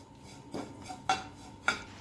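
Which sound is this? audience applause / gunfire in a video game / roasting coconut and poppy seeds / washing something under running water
roasting coconut and poppy seeds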